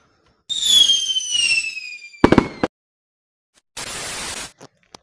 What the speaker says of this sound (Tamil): நான் தூங்கணும், பட்டாசு விடாத.